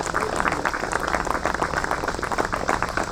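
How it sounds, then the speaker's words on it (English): A crowd at an outdoor statue dedication ceremony for an NBA legend gives a round of applause, a steady moderate patter of many hands clapping throughout. "How about another round of applause for Dan Ramey?"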